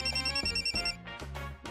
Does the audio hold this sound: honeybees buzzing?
no